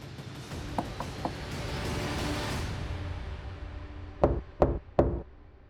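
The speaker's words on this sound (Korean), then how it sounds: "그 형사님은 바로 큰형의 집을 찾아가서 문을 두드립니다" Three firm knocks on a house door ring out near the end of the stretch, following a few lighter taps and a low background rumble, with no talking.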